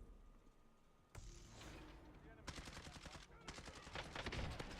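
Video game gunfire rings out in rapid automatic bursts, a single sharp shot followed by sustained rattling volleys that grow louder toward the end, set against a quiet background.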